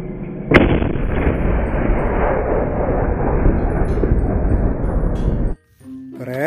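A sharp cannon blast from a toy steel tank opens with a loud crack, then a long, dense roar rolls on for about five seconds and stops abruptly.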